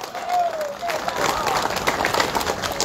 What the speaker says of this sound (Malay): Satu tepukan gemuruh kepada beliau.